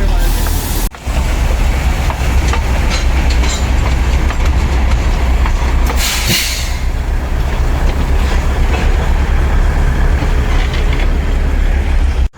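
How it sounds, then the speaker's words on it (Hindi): Matheran toy train running toward Neral, a loud, continuous rumble and wheel clatter close by, with a brief sharp rush partway through and a sudden cut at the end. "सो आपने जो मेरे पीछे देखा ये टॉय ट्रेन है"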